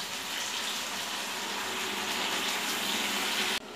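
Hot water, about one and a half cups, poured steadily into a pan of cooked chicken being made with chana dal, a continuous close splashing gush that cuts off abruptly at the end.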